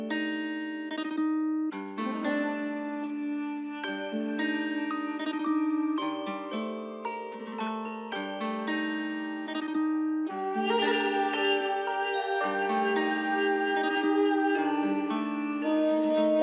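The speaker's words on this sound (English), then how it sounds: "we've got the Duduk tenor here, and these are the notes we played" Tenor duduk from the Kontakt Balkan Orchestra sample library plays a slow, dark ethnic melody of sustained reedy notes with gentle bends, alone and clear throughout.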